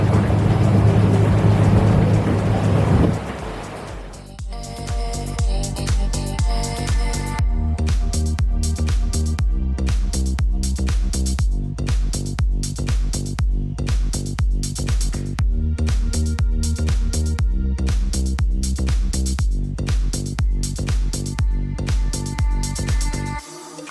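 Boat motor running on open water, with a loud rumbling roar at the start and then a steady, rhythmic engine throb with regular pulses that carries on close by and alone.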